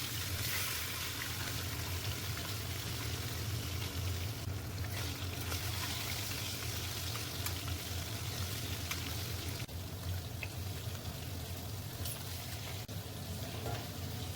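Fish pieces frying in oil in a wok for an Assamese fish curry give a steady, dense sizzle that holds even and close for the whole stretch, with no talking.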